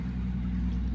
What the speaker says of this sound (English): noisy here today. All kinds of trucks,